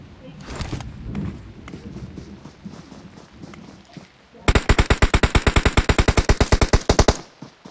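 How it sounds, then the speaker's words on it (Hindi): Rapid automatic gunfire from the video game PUBG Mobile crackles in a loud, fast burst of evenly spaced shots lasting about three seconds, after quieter game ambience and faint footsteps. "गोली चल रहा है ब्रो"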